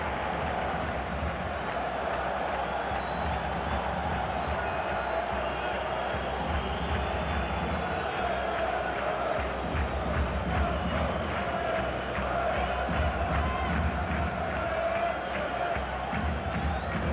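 A stadium crowd in the FIFA 21 video game roars steadily throughout a Romanian Liga 1 match between FC Arges and FC Dinamo Bucuresti, a constant wash of cheering and chanting at moderate distance.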